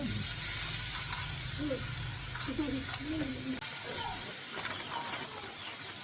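A steady hiss of meat sizzling on a grill continues throughout, with muffled voices talking faintly in Korean in the background.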